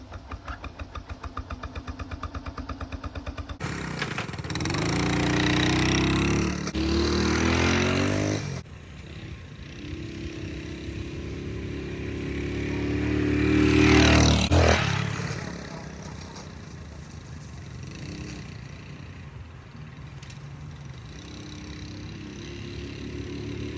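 A 1970 Honda Trail 90 motorcycle running, a small engine idling with rapid regular putters, then revving and pulling away, rising and fading as it rides past, near to middle distance.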